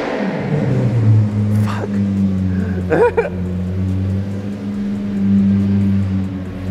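Deep, steady rumble of a Lamborghini Revuelto fitted with a Gintani F1 exhaust, idling loud and close with brief blips of revving, while people talk nearby and one voice curses.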